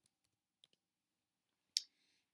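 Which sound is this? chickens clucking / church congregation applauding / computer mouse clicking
computer mouse clicking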